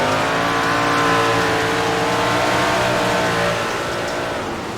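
Dirt Big Block Modified race cars in iRacing roar together at USA International Speedway, loud droning engines with rising and falling pitch, a pack running close before the sound eases slightly at the end.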